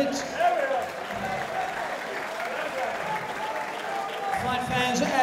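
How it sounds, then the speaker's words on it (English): Crowd at a fight event applauding as two fighters are brought to center ring, a steady arena wash of clapping and cheering with voices talking through it. "Please give them both a big round of applause"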